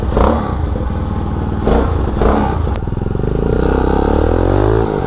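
A Motovox mini bike fitted with a dirt bike engine being ridden, loud buzzing engine that revs and climbs in pitch through the run, with clattering and thumps from the ride.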